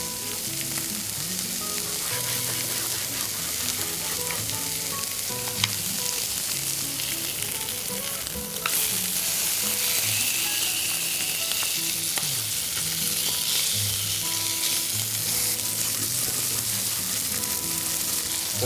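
Tomato, peppers and garlic frying in a pan, a dense, continuous loud sizzle with steady stirring throughout, close by and growing slightly louder partway through.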